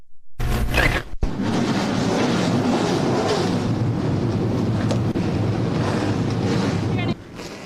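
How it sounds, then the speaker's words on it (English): Several CARS Tour race car engines fire up and roar together at Greenville Pickens Speedway, a loud, sustained dense rumble after a brief silent start, holding steady for several seconds before dropping slightly near the end. "Drivers, start your engines!"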